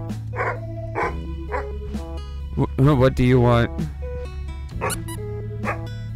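Dogs in the video game Something in the Well bark and yip in repeated short bursts, with a louder run of barks in the middle over a steady game tone, while a person talks briefly.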